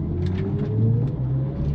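An electric BMW in Sport Boost mode performs a launch control start, giving a steady motor whine that rises in pitch over a low rumble of road and tyre noise, loud and continuous throughout with no talk.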